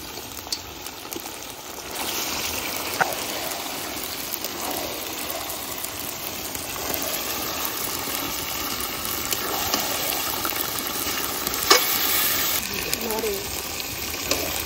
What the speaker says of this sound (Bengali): মশলা দিয়ে তেল ছেড়ে দিয়েছে, এবার মাংসটা ঢেলে দেবো।